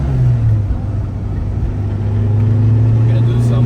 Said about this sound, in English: We're doing the driving video now of the 1995 Mitsubishi Cyborg.